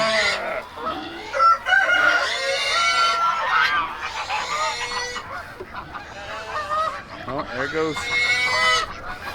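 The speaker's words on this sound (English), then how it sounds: "there goes the geese" Geese honk loudly and continuously, a noisy flock calling over one another nearby, with a brief spoken exclamation partway through.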